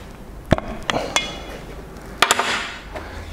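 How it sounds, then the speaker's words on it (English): A hammer strikes an impact screwdriver on corroded screws of a sunk Honda BF40 outboard motor, producing several sharp metallic taps in two brief clusters over a low background. "Impact screwdrivers are really good for this sort of job where you get things corroded in, screws in."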